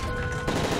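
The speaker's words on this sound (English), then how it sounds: "That's gunfire!" Rapid gunfire on a plane carrying the President in the Modern Warfare 3 campaign, a dense, loud burst of automatic shots crackling throughout, with a sharper cluster partway through.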